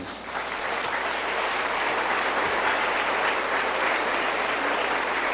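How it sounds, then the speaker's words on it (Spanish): Sustained applause from a church congregation praising the Lord during a sermon, many hands clapping in a dense, even wash that swells in quickly and holds steady. "Dale otro aplauso al Señor."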